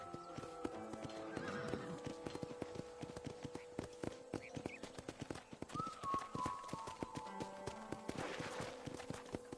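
Horses in a corral in the Red Dead Redemption video game, with repeated clip-clopping hooves and several neighs and whinnies rising over a quiet ambient backdrop, moderately near.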